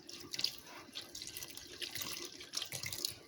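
Warm water is poured into wheat flour for bread dough, making a soft, faint trickle and splash that runs steadily for about three seconds.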